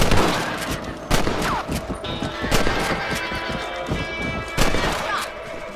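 Rifle shots in the game Red Dead Redemption while hunting rabbits, several loud cracks spaced a second or two apart over a steady background wash of game ambience.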